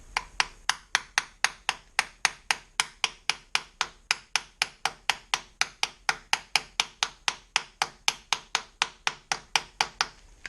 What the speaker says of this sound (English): so I'm going to need to give that a whack, I think